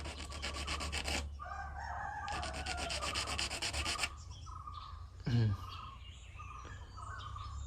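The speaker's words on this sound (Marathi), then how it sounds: "याला थोडंसं घासलं पाहिजे" A small wooden spinning-top piece, being made by hand, is rubbed back and forth against a hard surface in two bursts of rhythmic, rasping strokes, close and loud, with a short sharp knock afterward.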